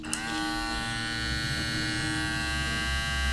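A Babyliss LoPro FX hair clipper switches on with a small click and runs at a steady, even buzz, close and fairly quiet, with a constant high-pitched hum.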